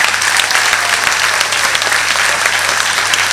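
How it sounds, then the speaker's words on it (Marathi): An audience at an evening abhang devotional singing concert gives loud, steady, continuous applause, a dense wash of many hands clapping at once. "यासाठी तुम्हा सर्वांना एक मोठे जोरदार टाळ्या"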